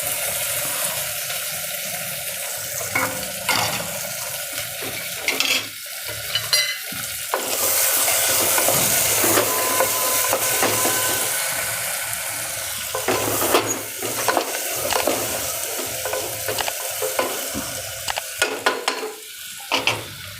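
Vegetables and corn being stirred in a sizzling pan, busy scraping and clattering of a spoon over a steady frying hiss, loud and close, with no voice.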